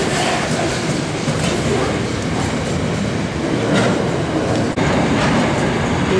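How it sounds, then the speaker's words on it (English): A passenger train rumbles steadily past on the Gawler line in Adelaide, a dense, continuous roar of wheels and carriages with faint rail clatter throughout. "You can also see now a train coming on the Gawler line on the up track."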